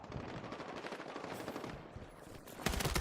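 A tank opens fire during a Battlefield 6 match on a city main street. Dense, continuous rapid fire fills the scene, with a louder, heavier burst near the end.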